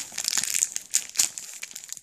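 Tape being peeled and pulled off a mailed squishy package, close crinkly crackling and ripping bursts of plastic and paper over about two seconds, with no talking.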